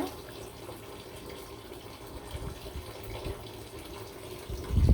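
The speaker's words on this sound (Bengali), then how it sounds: "মূলা শাকগুলো কিন্তু আমি ভালো করে ধুয়ে নিব" Radish greens being washed under a running tap, a steady close stream of water splashing through the whole stretch, with a brief louder burst at the end.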